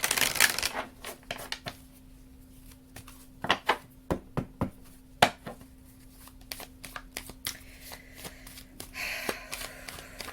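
Tarot cards being pulled and handled from a deck, a string of sharp flicks and snaps at irregular intervals, some clustered close together, over a faint steady hum, with soft shuffling rustle at the start and end.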